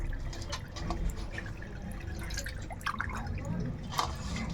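Fresh water splashes and drips while tripe is washed by hand, with scattered close drips and sloshes over a low background and a faint voice.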